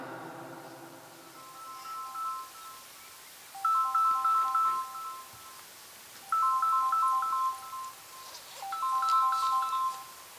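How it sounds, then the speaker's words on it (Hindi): A mobile phone rings with an incoming call during a religious discourse, a melodic electronic ringtone repeating in several clear bursts, fairly close and alone without talk. "जहाँ जरूरी नहीं था तहाँ ही फोन आ जाता है"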